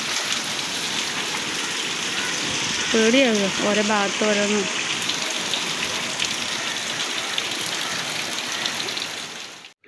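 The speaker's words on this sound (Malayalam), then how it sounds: "പുറത്തും രാത്രിയും രാവിലെയും ഒക്കെ മഴ തന്നെയാണ് കേട്ടോ, നല്ല മഴയാണ്" Heavy rain pours down outside in a steady, dense hiss during a windy night-and-morning storm, with a short stretch of a woman's speech heard over the downpour.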